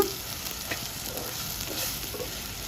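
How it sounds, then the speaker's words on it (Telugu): Green chili paste frying in a pan for a village-style mutton liver fry, a steady close sizzle with faint scraping stir sounds, no voices. "మనం ఒక స్పూను పచ్చిమిరకాయల పేస్ట్ వేసుకుందామండి ఇది కూడా ఫ్రై అవ్వాలి పచ్చివాసన పోయే వరకు"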